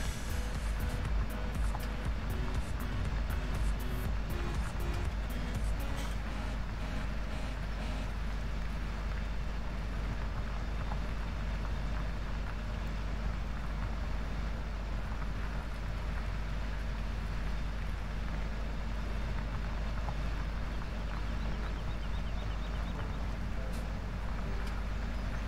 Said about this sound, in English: This John Deere definitely handles this plow a lot better than the Case tractors do